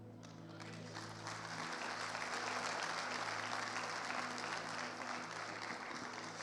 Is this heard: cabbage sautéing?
no